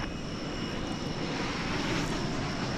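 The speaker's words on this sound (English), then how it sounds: "American Airlines Flight 1489 from Seattle." American Airlines airliner at DFW Airport, an Airbus arriving from Seattle-Tacoma, its engines making a steady, fairly loud broadband roar that holds without a break.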